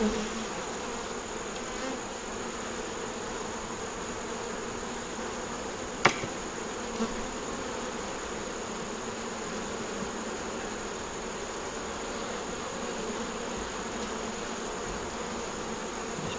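Honey bees at an opened nuc box hive during frame inspection, a dense, continuous buzzing hum, fairly faint and steady, broken by a sharp knock or tap partway through.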